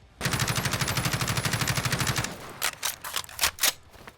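A Kilo 141 rifle in a modded Fallout 4 fires a loud, rapid burst for about two seconds, then a partial reload follows as a handful of crisp mechanical clicks and clacks.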